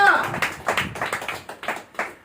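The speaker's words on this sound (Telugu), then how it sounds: "గట్టిగా చప్పట్లు కొట్టండి" A church congregation claps along during a pastor's sermon, a steady run of about a dozen rhythmic hand claps at a moderate distance, with a voice briefly audible at the start.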